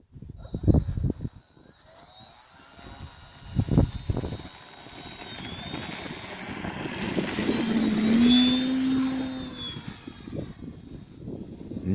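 An FMS Piper Cub PA-18 RC model airplane engine runs up to full throttle, a sustained buzzing whine that rises and swells in loudness over several seconds, with a few low thumps and wind noise early on.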